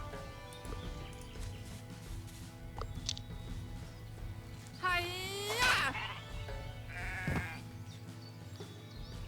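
Sheep in a video game bleat in loud, wavering cries, two or three calls over a steady background of game ambience and low rumble.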